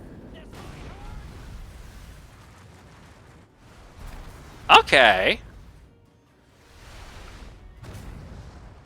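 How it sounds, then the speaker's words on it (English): Explosions go off in a video game: a loud, sharp burst in the middle with brief crackling rumbles before and after, while someone talks softly around it. "Always ends with a big explosion."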